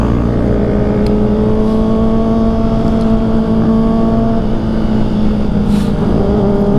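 Steady, loud engine drone of a motorcycle idling or cruising, continuous and unbroken for several seconds, smooth rather than harsh, with no voices over it.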